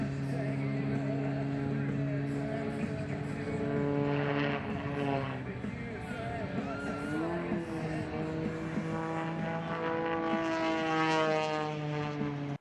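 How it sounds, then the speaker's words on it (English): Propeller aerobatic aircraft performing a vertical climb and spinning turn at an airshow in Australia, a steady droning engine tone with shifting pitch filling the whole stretch, close and loud, with faint talk mixed in. "he's going to stop the nose of the aircraft perfectly vertical"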